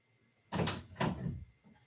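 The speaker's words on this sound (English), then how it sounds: "I'm going to shut the door over here." A room door in a sparse, empty studio is shut, giving two solid, close thuds about half a second apart with a short rattling tail.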